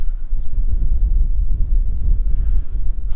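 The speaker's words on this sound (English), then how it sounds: "I apologize for the wind" Heavy wind buffets the microphone with a constant low rumble and gusty flutter, loud and unbroken throughout, outdoors in snow beside a Toyota Hilux LN130.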